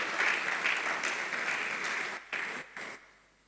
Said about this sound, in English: A round of applause for this one.